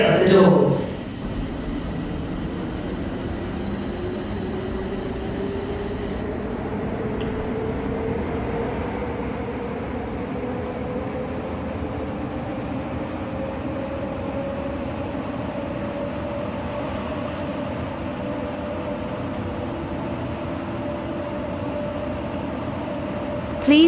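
An airport transit train in the Roblox video game rolls along steadily, a sustained low rumble with a slowly rising whine as it gathers speed, preceded by a brief burst of sound at the start.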